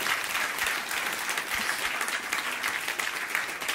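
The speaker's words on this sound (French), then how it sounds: "Ah oui, applaudissements" Studio audience applauding on a French talk-show set, a steady, dense wash of clapping that holds at an even level throughout with no voices over it.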